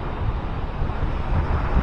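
Strong wind sweeps across the beach at Maspalomas, Gran Canaria, buffeting the microphone with a loud, gusty low rumble and surging roar that swells and eases over the short stretch.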